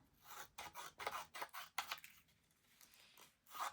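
Scissors snip through strips of paper for a round collage, a quick run of close, crisp cuts followed by a short pause and one more snip.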